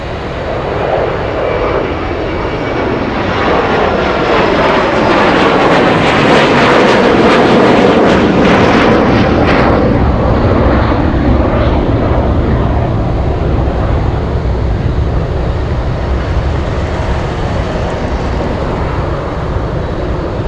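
An MD-80 airliner climbs out at Anchorage airport with a loud, continuous engine roar that swells to a peak and then holds steady as it pulls away.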